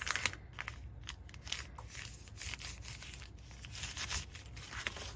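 Recycled paper packaging crinkles and rustles softly as it is folded over, with irregular scraping and crumpling noises at close range and low volume.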